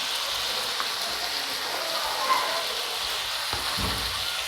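Chopped ginger and garlic sizzle steadily in hot oil for an egg curry in tomato gravy, a dense even crackle with a few soft knocks of stirring near the end.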